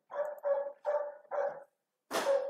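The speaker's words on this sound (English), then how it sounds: "Dog's barking is always nice." A dog gives four evenly spaced barks, then after a short gap one louder, sharper bark; moderately near and heard alone without voices.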